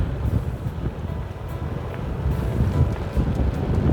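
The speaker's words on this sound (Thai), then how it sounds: "ลมหนาวเริ่มพัดมาแล้ว พี่น้อง" Cold wind blows steadily across a microphone in a rural Lao village, a loud, continuous low rumble and buffeting with no speech.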